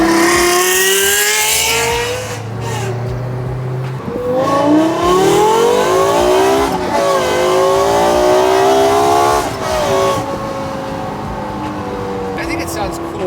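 Straight piped Lexus LFA V10 revving hard, a loud, raspy wail climbing and falling through repeated sweeps with brief gear changes between them, close and dominant, with speech faintly present at times.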